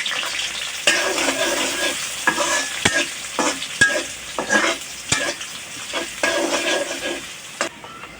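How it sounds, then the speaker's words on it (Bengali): Sliced onion fries in hot oil for a beef and potato kabab, a busy sizzle broken by repeated scrapes and knocks of a stirring spoon against the pan. "এখন তেলের মধ্যে একটু ভাজবো এটাকে।"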